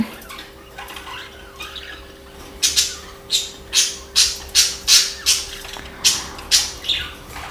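Pet birds at home squawk and chirp harshly and rhythmically, about a dozen loud calls in quick succession after a quieter start, close by.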